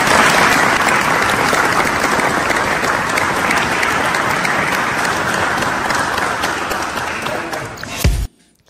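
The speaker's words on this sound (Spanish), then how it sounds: "Quiero darles mi reconocimiento y que todos nos demos un fuerte aplauso." Loud, sustained applause from a large audience honoring rescue crews after a cable car incident, dense, continuous clapping that holds steady for several seconds before cutting off abruptly.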